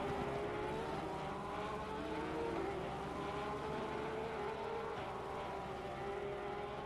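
Porsche race cars in a sim racing endurance event at Laguna Seca drone with a steady, sustained engine whine, moderately loud and continuous with slight pitch shifts as they run.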